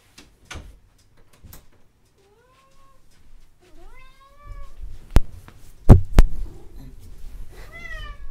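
Several cats meow close by, three or four rising, wavering cries spread over a few seconds, mixed with soft thumps and handling noises and no talk.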